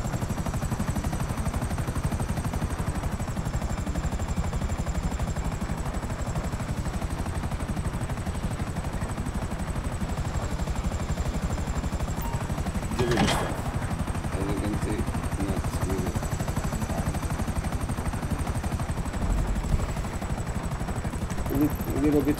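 A fast helicopter in GTA 5 Online drones steadily throughout at moderate level, its rotor hum constant, with a brief sharp burst of noise midway.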